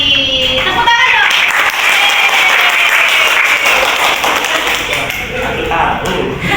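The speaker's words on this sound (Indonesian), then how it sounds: "Tepuk tangan dong." Classroom applause from a group of students, a lively burst of clapping that runs for several seconds and trails off, with voices mixed in.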